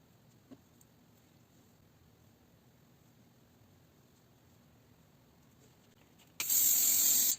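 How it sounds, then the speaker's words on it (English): Hairspray hisses from a can onto braided hair in one short, loud burst of about a second near the end, after a long stretch of quiet room tone. "hairspray to keep all those little short hairs that aren't quite reaching in place"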